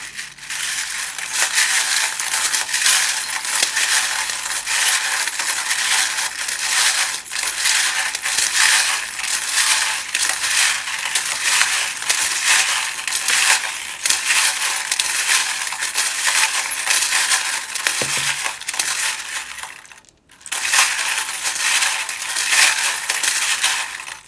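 Tarot cards being shuffled for a card reading: a continuous dense rustle and flutter of cards riffling close by for over twenty seconds, breaking off briefly near the end and then resuming, with no voices.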